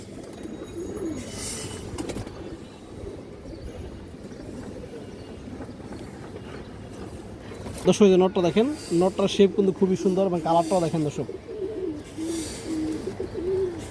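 Pigeons, among them a fine black lace-type bird, coo in a rolling series near the end, close and fairly loud, while someone talks over them for most of the stretch.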